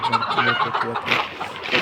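Confined poultry cluck in short repeated bursts close by, a quick run of rhythmic calls filling the moment without speech.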